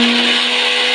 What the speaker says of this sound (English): Let us grind this